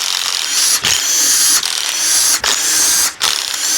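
A ratchet wrench loosens a 13 mm nut holding the broken dipstick tube on a Ford Ranger 4.0 OHV engine, giving a loud continuous ratcheting buzz broken by four short pauses.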